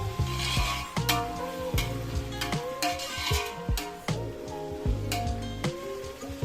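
A spoon scrapes and stirs rhythmically through chopped tomatoes and chicken biryani mixture in a pot, with regular strokes about once a second, metal knocks against the pot and a light sizzle underneath.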